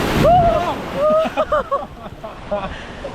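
Ocean surf at Waikiki Beach, Oahu, washing and splashing close by with a rushing wash, while people talk and exclaim over it.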